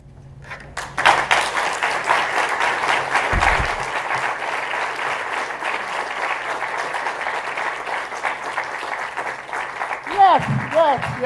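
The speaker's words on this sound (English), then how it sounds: "Round of applause." Sustained applause fills a memorial service, a steady dense patter of many hands holding for several seconds before voices and other sounds rise near the end.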